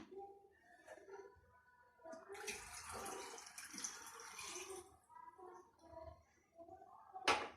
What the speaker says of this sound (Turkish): Evet suyumuzu da üzerine ilave ettik